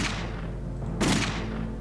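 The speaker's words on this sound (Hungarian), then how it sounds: "Egy lövést arra." Gunfire in the turn-based war game Silent Storm: two sharp, loud shots about a second apart, each a broad crack that fades quickly against low background hum.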